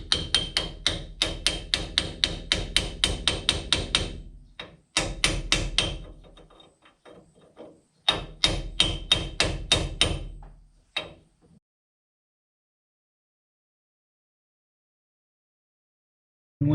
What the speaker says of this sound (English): So now we'll just start tapping this bearing into place.